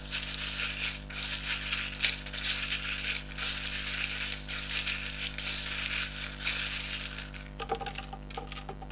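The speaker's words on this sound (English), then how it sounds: "let us get the charms, give them a good shuffle and mix up" Small metal charms used for a card reading jingle and clink together in a continuous shuffling rattle for several seconds, ending with a few lighter scattered clinks.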